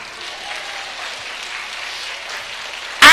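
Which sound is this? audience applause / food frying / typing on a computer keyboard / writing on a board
audience applause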